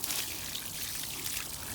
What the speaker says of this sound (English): So let me just water these.